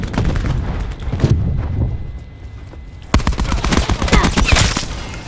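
Call of Duty: Black Ops 4 multiplayer gunfire, rapid bursts of automatic shots in two loud volleys separated by a quieter stretch, crackling close and sharp.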